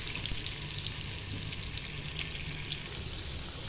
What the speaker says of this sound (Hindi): इसको मीडियम फ्लेम पर ही हल्का सा रेड होने तक भूनेंगे